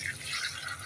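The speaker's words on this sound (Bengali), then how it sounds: "চাউল আর মাংস কষানো শেষ, এবার আমি ঝোল দিয়ে দিচ্ছি," Broth poured into a pot of sautéed rice and meat for biryani, a steady quiet liquid pour running without a break.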